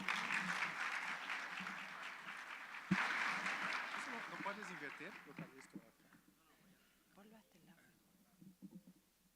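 Audience applause at an evening keynote forum session, a steady broadband wash of clapping that slowly thins and fades over several seconds, with a voice beginning to speak as it dies down.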